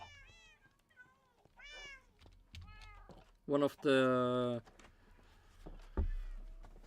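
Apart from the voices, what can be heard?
cats meowing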